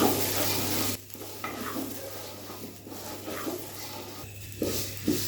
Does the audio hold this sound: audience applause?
no